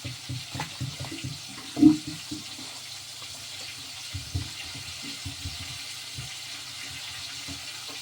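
Tap water runs into a kitchen sink during cleaning, a low, steady trickle with clattering and splashes from dishes and one sharp knock.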